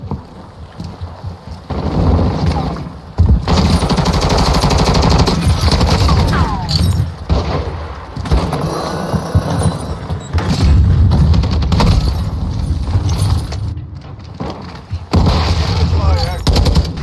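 Assault rifle gunfire in Call of Duty: MWII, loud sustained bursts of shots and booms running through most of the stretch with brief gaps, dense game action throughout.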